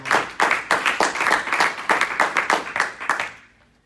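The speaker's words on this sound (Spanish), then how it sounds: "Un aplauso para Cristo, amado hermano." Congregation applauding during a church service, a dense burst of hand clapping with a steady rhythm that holds for several seconds and then fades out.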